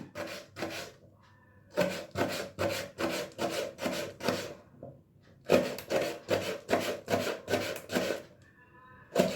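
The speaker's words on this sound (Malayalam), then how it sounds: "ചെറിയ ചെറുതായിട്ട് പച്ചമുളക് ചെറുതാക്കി കട്ട് ചെയ്യണം" Green chillies are chopped into small pieces on a cutting board, with rapid rhythmic knife taps in two long runs separated by a short pause, close and crisp, and no talk.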